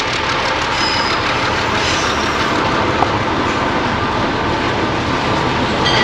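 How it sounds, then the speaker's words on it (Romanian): A train runs on the railway near Santa Teresa, Peru, a loud close continuous rumble and rattle of wheels and cars rolling past without a break. "Trece trenul."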